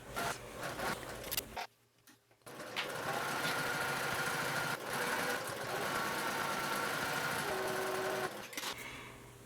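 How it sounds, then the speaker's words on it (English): A sewing machine top stitches a folded bag strap, running in steady continuous bursts with a short pause near the start, close and clear with no talking. "I'm just going to fold it and hold it as I sew."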